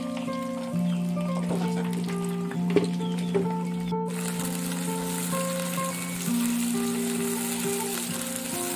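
Chilies, tomato, garlic and shallots sizzle briefly in hot oil, a steady close crackle and hiss running throughout, with a constant low mechanical hum underneath and a few faint clinks.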